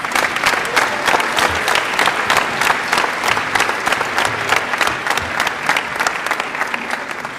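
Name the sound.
audience applause at a school Veterans Day program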